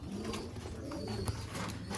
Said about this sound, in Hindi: ये हैं प्योर बांके कबूतर